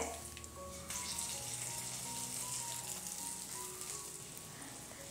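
Tempering spices crackle and sizzle loudly in hot oil as they are poured into a fish curry, a steady dense frying hiss over low kitchen hum.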